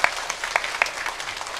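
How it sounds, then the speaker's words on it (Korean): A church congregation applauds together during a Sunday worship service, a dense steady patter of many hands with a few sharper peaks, heard briefly and without speech. "하나님께 영광의 박수를 드립니다."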